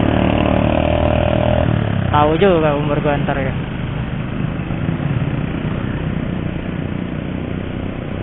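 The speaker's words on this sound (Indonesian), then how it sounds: "untuk motor ini gue pakai motor Yamaha MT-15 ya" A Yamaha MT-15 motorcycle engine idles with a low, steady putter underneath someone talking close to the microphone throughout.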